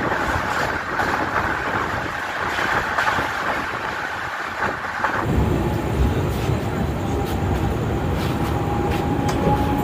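Shalimar–Puri superfast express (12895) pulling out of Kharagpur station: a steady, loud rumble of rolling passenger coaches with a shift midway to a heavier, rougher wheel-and-rail roar, continuous and close throughout.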